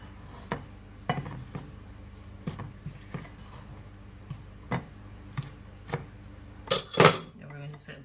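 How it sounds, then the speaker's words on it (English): Dry ingredients for Belgian waffles (sugar, salt and baking powder) being stirred together in a bowl, giving a steady run of light utensil taps at an even rhythm, ending in a brief louder clatter. "we're going to combine all the dry ingredients"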